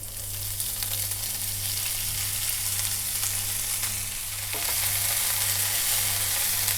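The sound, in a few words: fenugreek leaves roasting in ghee in a pan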